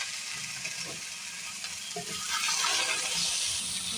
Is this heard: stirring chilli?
yes